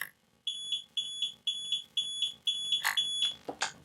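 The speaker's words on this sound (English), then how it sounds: "it's like the lost model buzzer" Lost-model buzzer on a Team Black Sheep Caipirinha 2 drone sounding a rapid series of sharp, high electronic beeps in a steady rhythm, close and fairly quiet, with a couple of clicks near the end.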